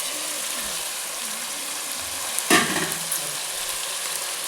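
Chopped onion, tomato and coriander frying in a pan, a steady close sizzle with a brief louder burst of stirring partway through.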